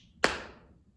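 A single sharp hand clap from a rhythm exercise snaps out close by and decays quickly into quiet, with no speech.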